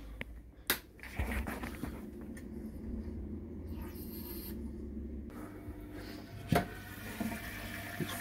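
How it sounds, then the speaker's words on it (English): Water splashes and runs while grain is rinsed in a Klarstein Brewster homebrew brewing machine during a first beer brew day, a steady low wash with a few sharp clunks, moderately quiet and without speech. "We'll start rinsing the grain off."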